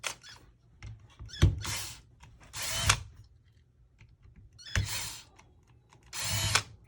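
A power tool drives screws out of a KWA TK 45 airsoft replica gearbox in four loud, separate whirring bursts with quiet gaps and small mechanical clicks between them.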